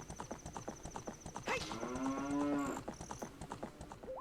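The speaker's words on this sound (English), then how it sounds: "A chorus of moos." Cattle mooing in the Ocarina of Time game, a chorus of long harmonic lows rising and holding over a steady clip-clop hoof rhythm and game music, prominent and close.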